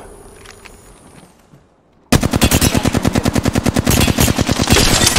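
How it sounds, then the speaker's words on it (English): Rapid automatic gunfire in a shooter video game bursts in loud and close after a quiet stretch, a steady fast stream of shots with sharp rhythmic cracks continuing to the end. "I'm taking fire."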